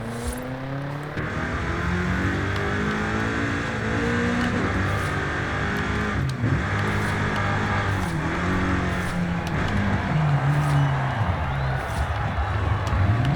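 A 2020 BMW M8 Competition coupe engine drones steadily while the car drives, its revs shifting up and down through gear changes, close and sustained, with a voice talking over it.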